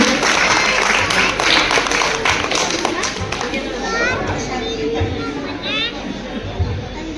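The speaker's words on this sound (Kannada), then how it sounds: "ಎಲ್ರಿಗೂ ಒಂದು ಜೋರಾದ ಚಪ್ಪಾಳೆಗಳು" Loud applause from an audience at a Women's Day event, steady clapping throughout with voices and children's chatter mixed in.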